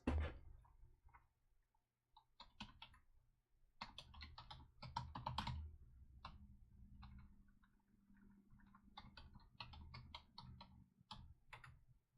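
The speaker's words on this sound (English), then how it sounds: "I'm typing that in wrong again" Quiet typing on a computer keyboard during a Prusa i3 MK2S and Raspberry Pi setup, bursts of rapid close key clicks with short pauses between them, with no talking.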